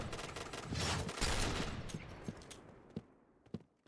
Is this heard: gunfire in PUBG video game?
yes